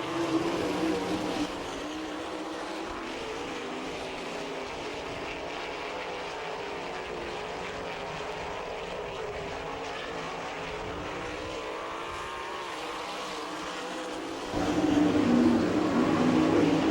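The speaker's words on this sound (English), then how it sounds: "Top 3 cars running close together." Sprint cars race close together on a dirt track at Attica, Ohio, in an All Star Circuit of Champions event, a continuous high-revving engine roar heard from a distance that swells louder near the end.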